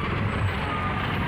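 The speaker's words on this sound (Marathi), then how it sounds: "आता पाठून म्युन्सिपाल्टीची गाडी येते" A municipal garbage truck approaches on a busy street, heard as a dense, steady roar of engine and traffic rumble with no pauses.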